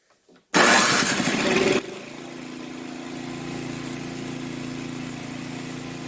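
A snow blower engine fires up on a newly replaced electric starter: a loud, harsh cranking burst of about a second, then a steady, rumbling idle that carries on, moderately loud and close.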